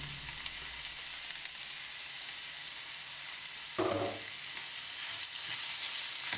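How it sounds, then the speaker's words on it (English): Meat for ants climbing a tree fries in a hot pan over high heat, a quiet steady sizzle with a brief louder crackle partway through as food shifts, no talking. "you can start frying the meat."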